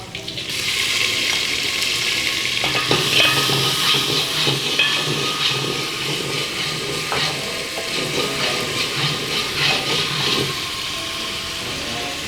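Onion paste fries in a hot pan while being stirred, a steady loud sizzling hiss with crackling bursts and soft scraping of the spoon running the whole time.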